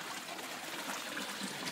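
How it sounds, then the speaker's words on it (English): Faint, steady trickle of water from an aquaponics tank running out of a pipe into a 5-gallon water jug clarifier, a soft continuous splashing with no speech. "there won't be any more water coming out of that pipe"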